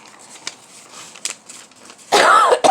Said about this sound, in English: No, that was not a virus cough.